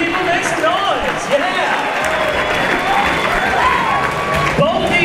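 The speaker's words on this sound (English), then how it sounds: "Clap your hands. It's okay, people. Make noise." A crowd at an amateur MMA fight event claps and cheers steadily with a dense, roaring wash of applause and shouts, loud and continuous throughout, as an announcer's voice carries over it.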